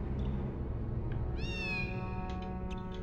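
A cat meows in the Harry Potter PS1 video game, one drawn-out rising meow standing clear over steady game music with a few soft blips around it.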